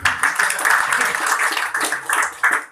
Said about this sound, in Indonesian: Tepuk tangan buat Purti ya.